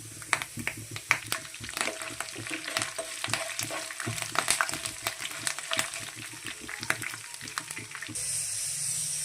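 Lentils, peanuts, curry leaves and dry red chillies fry in hot oil for tamarind rice, a steady close sizzle with crackling pops and the scrape of stirring, with no talk.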